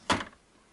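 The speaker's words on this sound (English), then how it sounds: "Here in the printer, when I open these doors" Doors on an HP Photosmart C3180 printer, scanner and copier being opened during dismantling: a single short plastic clunk and scrape, fairly loud and close, then fading into quiet room tone.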